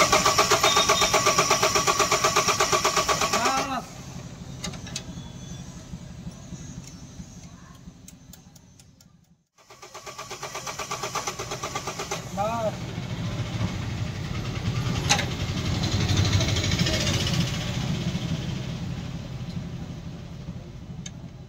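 A Mahindra Bolero BS6 pickup diesel engine with a starting problem and fault codes cranks and settles into a ticking idle. It fades out around the middle, then starts again and runs steadily, close and clear.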